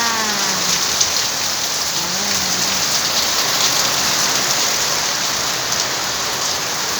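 Heavy rain pours down steadily, a dense constant hiss of drops hitting surfaces without letting up.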